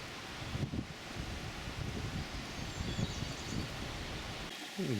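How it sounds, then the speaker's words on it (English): Wind stirring the fresh foliage of beech trees beside a river, a steady soft broadband rustle with gentle gusts throughout, the river's flow blended underneath. "whisper of the wind in the branches"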